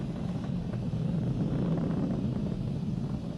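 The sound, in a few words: SpaceX Falcon 9 rocket in supersonic flight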